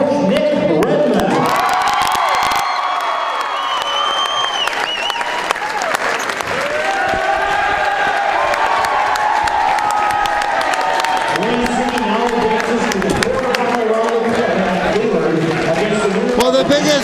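A large crowd roars with cheering and sustained applause throughout at a basketball championship trophy presentation as the coach is announced, loud and continuous, with shouting voices mixed in.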